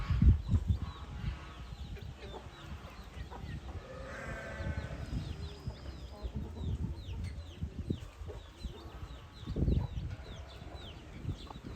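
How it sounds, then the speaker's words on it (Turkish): A mother hen clucks and her chicks cheep in a busy farmyard scene while being fed, soft chirps scattered throughout with a few louder low clucks and rustling. "sizi anne tavuk ve civcivleriyle baş başa bırakıyorum"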